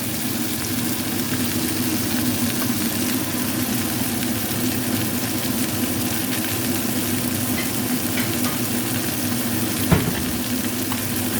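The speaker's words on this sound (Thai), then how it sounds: "มาดูกันนะคะทอดปลา" Fish frying in a pan gives a steady, dense sizzle that holds at an even level throughout, with a brief soft clatter near the end and no voices.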